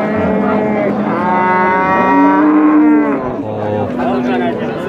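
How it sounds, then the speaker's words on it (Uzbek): Cattle moo loudly and repeatedly at close range, several long drawn-out calls overlapping with a busy crowd murmur in the background. "Bo'g'oz sigirlar."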